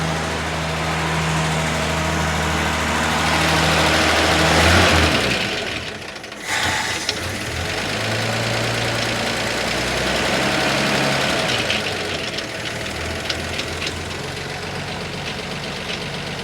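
A 1950 Chevy engine runs steadily at idle with a deep, continuous rumble, briefly cutting out or dipping partway through before settling back into a steady idle; no voices.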